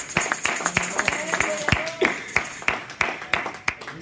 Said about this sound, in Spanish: dele palma fuerte al Señor